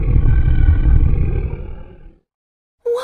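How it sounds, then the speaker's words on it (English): A beast lets out a loud, deep, rumbling roar lasting about two seconds, then fades into a brief silence before another sound begins, with no talk over it. "What's that terrible noise? Asks Beauty, The beast is coming."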